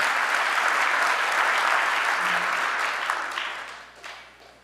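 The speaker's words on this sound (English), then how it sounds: "Clap it up once more." An audience at a Chicago winter convening breaks into sustained, full-room applause that holds steady and then tapers off toward the end.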